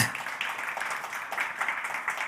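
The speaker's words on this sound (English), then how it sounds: "Applause for Christian." Audience applause at a Black Sea ClimAccelerator demo day, a dense patter of clapping hands, moderately loud and continuous for a couple of seconds.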